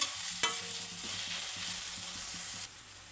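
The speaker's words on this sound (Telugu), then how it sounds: "ఉల్లిపాయలు అప్పుడు దాకైతే వేయించుకోవాలి చూడండి మధ్య మధ్యలో ఈ విధంగా కలుపుకుంటూ ఉండాలండి" Onions frying in a pan for egg fry, a soft continuous sizzle with a spoon stirring in a regular rhythm of light scrapes and taps.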